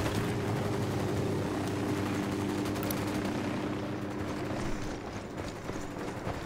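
A helicopter in the Ghost Recon Wildlands video game, a loud steady rotor and engine drone filling the whole stretch with faint mechanical clatter on top, easing slightly near the end.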